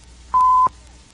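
A school bell rings once in a single steady electronic tone lasting about a third of a second, clear and fairly loud over a quiet background.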